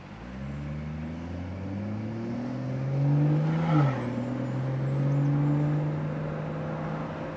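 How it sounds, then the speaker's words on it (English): BMW F30 340i with a VRSF catless downpipe pulling hard in second gear under a small bridge, a loud droning exhaust climbing steadily in pitch, briefly swelling as it passes beneath the bridge, then continuing to rise. "another 2nd gear pull under this little bridge"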